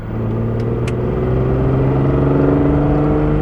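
An Alfa Romeo GTV6 engine revs up steadily, its pitch climbing smoothly over a few seconds in a rich, close mechanical roar.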